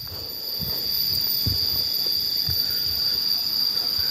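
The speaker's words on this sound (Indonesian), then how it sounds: "Banyak bunyi-bunyi jangkrik ya. Sejenis jangkrik lah, kurang lebih kalau di sini." Cicadas buzz near a stream in rural Cipanas, Subang, a continuous high, steady drone over faint low rustling and knocks, with no speech.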